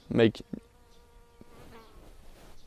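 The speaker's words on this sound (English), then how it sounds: "I'm getting attacked by a bee or something" A bee or similar insect buzzes right up close, a loud burst that quickly fades, followed by a thin steady hum and some faint background noise.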